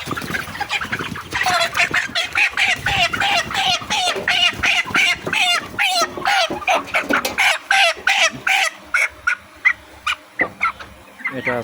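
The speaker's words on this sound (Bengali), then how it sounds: "দেখি আরেকটা মুরগি আমরা কালো থেকে ধরি।" Farm chickens cluck and squawk loudly and close by in a rapid, dense barrage as one bird is caught. The calls thin out into scattered bursts toward the end.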